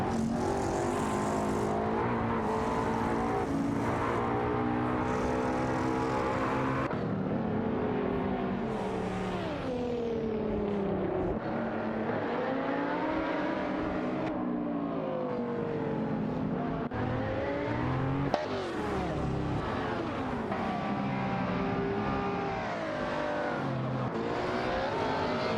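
Race cars, among them a Lamborghini Murcielago SV, roar through an AI racing video game, engines droning continuously with rising and falling revs as cars shift and pass. No one talks.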